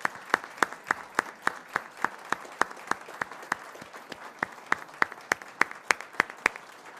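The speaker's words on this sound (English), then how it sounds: "let's give them a round of applause and thank them for all of their kind work" Sharp, evenly spaced claps ring out one after another at a school board meeting, a sparse, steady clapping rather than a full crowd, fairly faint in a quiet room.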